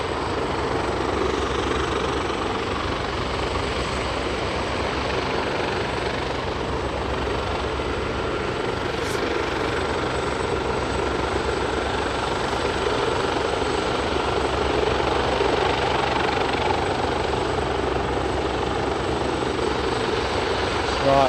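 Yellow helicopter at Aberdeen airport, a steady loud rotor and engine drone that holds constant for about twenty seconds, heard outdoors with some indistinct talking mixed in.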